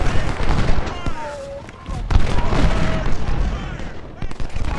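Massed rifle fire from Rousseau's troops in a Civil War battle game at Shiloh, dense crackling volleys and distant booms rolling continuously over a busy battlefield din.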